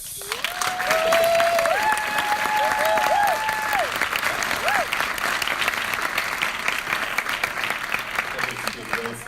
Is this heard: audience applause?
yes